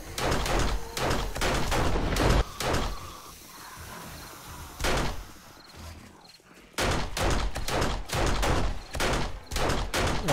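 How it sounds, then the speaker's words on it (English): Pistol fire in 7 Days to Die comes as rapid, loud, close shots in bursts, with a quieter stretch between volleys and dense strings of shots at the start and end. "Pistol's doing work, at least."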